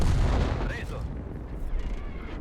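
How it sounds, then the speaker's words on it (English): A tank cannon fires a kill shot in World of Tanks, a single heavy boom at the start with a rumbling tail that decays over about two seconds, loud and close. "Here is the kill shot"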